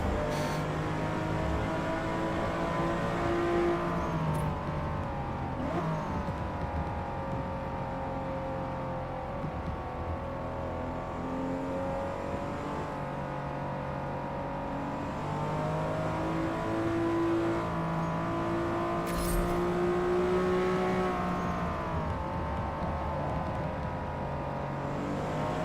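A race car engine in Forza Motorsport laps a wet track in the rain, holding a steady droning whine that rises and falls with gear changes and throttle over a long continuous stretch, with no talking.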